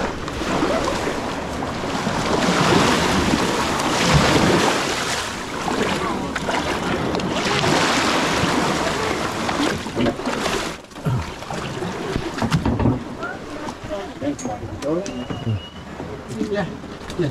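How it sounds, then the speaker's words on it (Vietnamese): Speedboat with three to four engines running at sea off Nusa Penida, Bali, a loud continuous engine roar with wind and water noise; engine and wash fade somewhat toward the end while people talk over it. "Mấy cái thuyền cao tốc thôi. Còn là 3-4 động cơ nhìn hoành tráng."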